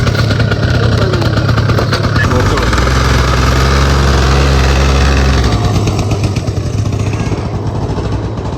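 A scooter engine runs loud and close with a steady low rumbling drone that eases slightly toward the end. People talk over the engine.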